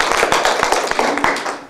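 Children clapping their hands together in a quick, uneven run of sharp claps for under two seconds, close and fairly loud.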